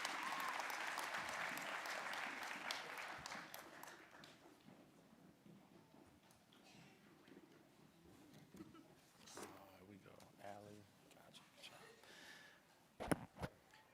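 A nursing graduation audience applauds as graduates leave the stage, loud clapping at first that fades over several seconds into murmuring and a voice, then a couple of sharp knocks near the end.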